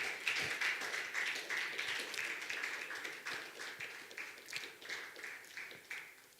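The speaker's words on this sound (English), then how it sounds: "Keep clapping till she sits" An audience claps to welcome someone speaker at a live-streamed consulting event, a fairly faint, steady patter of scattered hand claps sustained throughout.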